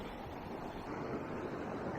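Clear waves wash onto Lucky Bay beach in Western Australia, a steady, soft surf roar with wind noise blowing across the microphone.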